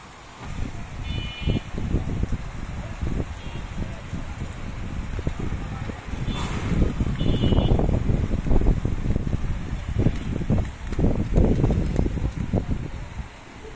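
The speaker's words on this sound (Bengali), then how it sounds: "অনেক ঠান্ডা একটা বাতাস আসতেছে।" Cold wind blows through a city ahead of a storm, with gusty low rumbles and buffeting on the microphone that swell and ease, growing stronger midway.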